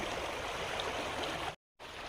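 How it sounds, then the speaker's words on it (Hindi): A river flows nearby with a steady, dense rush of water, broken by a brief cut to silence before the flow resumes. "तो देखु केमती बढ़िया नदी एठी"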